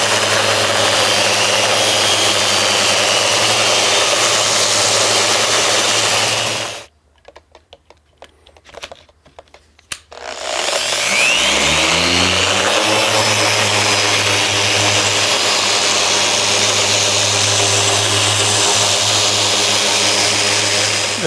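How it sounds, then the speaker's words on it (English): A loud, steady power sander whirs close up on a wooden live edge table, cuts out for a few seconds with light tapping, then spins back up and runs on. "There's quite a bit of sanding to do."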